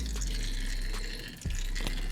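Engine oil trickles steadily from a car's drain into a catch pan, a continuous close liquid pour with faint dripping, briefly dipping before resuming.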